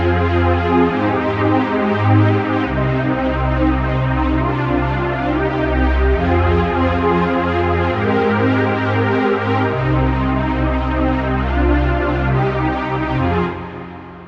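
Sustained synth pad recreating the pad from a trance track, with thick layered chords shifting every couple of seconds over a deep bass line, loud and steady before fading out at the end, with no voices.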